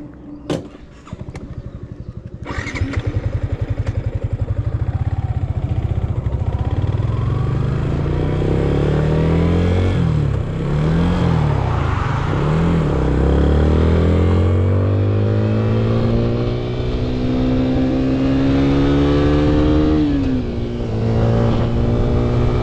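A 2024 Yamaha Exciter 155 VVA motorcycle engine, a 155cc single, revs loudly up close, climbing and falling through several throttle blips before settling to a steady high rev, with no talk.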